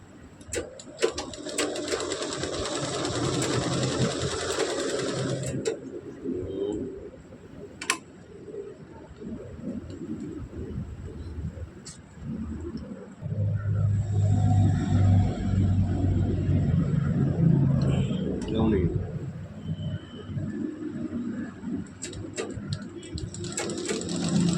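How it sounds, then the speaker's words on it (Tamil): A sewing machine stitching folded fabric along an edge, running in loud sustained whirring bursts with short pauses between them, close up, with faint background noises and no talking. "இந்த மாதிரி மடித்து தைக்க வேண்டும். ஓரத்தையலாக போட வேண்டும்."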